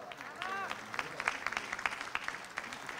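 Applause for blood donors at an AVIS anniversary ceremony in Fano: scattered, moderately distant clapping from a crowd, with a voice briefly heard at the start.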